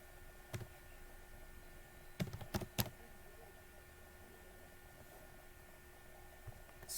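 A few sparse clicks of keys being typed on a computer keyboard, faint and close, with a quiet pause between bursts in an otherwise still room.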